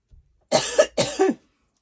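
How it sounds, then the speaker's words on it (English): Two close, harsh coughs in quick succession, loud and nearby, with silence around them. "I do apologise if you keep getting coughs in the video."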